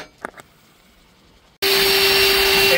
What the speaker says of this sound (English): And of course we got the vacuum to catch all these fiberglass shavings.